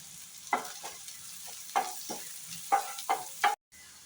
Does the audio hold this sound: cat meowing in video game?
no